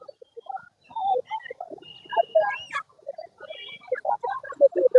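Country chickens cluck and squawk continuously at close range at an outdoor livestock market in Ayyalur, Tamil Nadu, several birds calling over one another in a busy, restless chorus.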